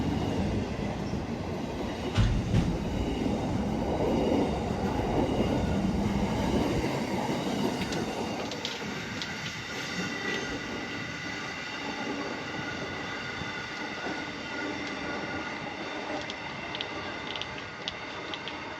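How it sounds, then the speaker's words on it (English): A freight train rolls past Broadmeadow station in Newcastle, led by an NR-class locomotive, with a steady, loud rumble and rattle of wagons over the rails that keeps going the whole time and fades a little toward the end. "NR65 being the leading set, and 8659 being also the second leading carriage on this freight train."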